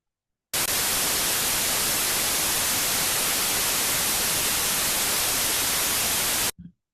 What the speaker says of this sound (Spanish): Eso, por ejemplo, es un ruido blanco